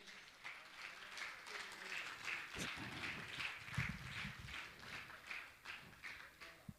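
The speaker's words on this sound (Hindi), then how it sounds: "मैं चाहूँगा ऐसे भैया लोगों के लिए जोरदार ताली बजावें।" Audience at a Jain religious discourse with Muni Shri Praman Sagar claps steadily and loudly for honoured volunteers, a dense, continuous patter of many hands lasting several seconds.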